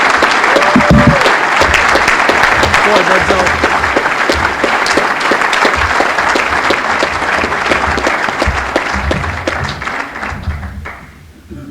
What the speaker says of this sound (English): So I'd like to give him a nice round of applause right here.